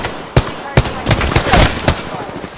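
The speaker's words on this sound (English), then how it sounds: "Opening fire on our prey" Gunfire in the video game Apex Legends: a few loud, sharp shots spaced irregularly, followed by a denser burst of rapid fire, close and punchy against game background noise.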